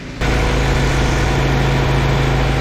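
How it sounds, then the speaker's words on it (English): Under the hood of a Honda Civic, the AC compressor clutch engages with an abrupt jump into a loud, steady engine and compressor drone that holds to the end. "So turn it off, and then I'm gonna turn it on. Let's see if the compressor kicked on."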